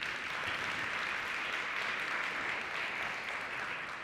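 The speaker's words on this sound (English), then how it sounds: "please give them a good round of applause and welcome" An audience at an International Women's Day forum claps in a steady, moderate wash of applause that stays even from start to finish, with no voices over it.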